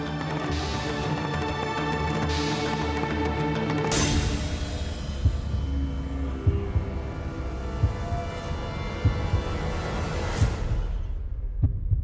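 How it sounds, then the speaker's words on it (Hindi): A heartbeat sound effect from a Hindi TV drama throbs in a slow, regular pulse of low thumps, layered under a sustained musical drone that thins out toward the end. "ये तो दिल की धड़कने की आवाज है।"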